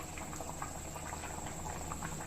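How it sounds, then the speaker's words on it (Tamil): Coconut and fennel gravy bubbles in a pot, a quiet continuous simmer with soft irregular popping and patter, steady and close, no voices. "இப்போ நல்லா கொதிக்கட்டது. நல்லாவே கொதிக்குது."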